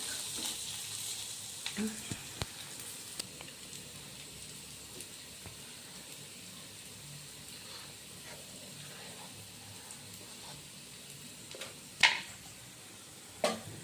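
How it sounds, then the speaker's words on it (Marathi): Garlic, onion and green chili frying in a pan with turmeric added, a steady low sizzle running throughout with a few soft stirring scrapes and a sharper clatter near the end. "इथे मी तव्यामध्ये लसूण घेतला आहे, कांदा फ्राय केला आहे आणि मिरची फ्राय"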